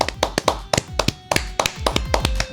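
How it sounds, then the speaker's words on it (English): A round of applause in a WWE 2K18 game session, heard as loud, close, irregular hand claps and slaps in uneven bursts, with no talking over them. "Just a round of applause for the friends that I have."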